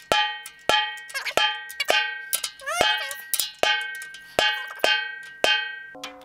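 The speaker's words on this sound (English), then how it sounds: "We definitely tightened up the bottom head quite a bit, so it should sound a lot better." A drum is struck repeatedly after tuning with its bottom head tightened, giving sharp, ringing hits at an uneven pace that sound close and fairly loud, with a few lighter taps between them and no talk over them.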